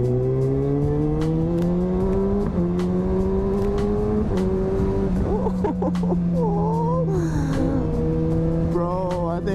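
A 2020 Kawasaki Ninja ZX-6R motorcycle fitted with an M4 exhaust revs loudly and steadily up close, its engine note climbing and dropping through several throttle blips with no talk over it.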